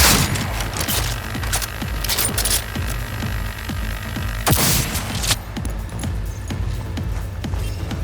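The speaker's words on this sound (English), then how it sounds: "That's a grenade!" A grenade blast in Cyberpunk 2077 hits as a sharp, loud burst in the middle of a clattering firefight, with scattered thuds and rattles around it.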